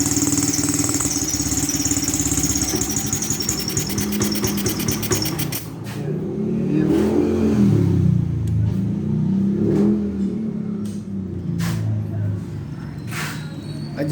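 A Honda CB125 motorcycle engine runs steadily, then revs up and down as its new carburetor is adjusted, loud and close, with rubbing and scraping noises mixed in.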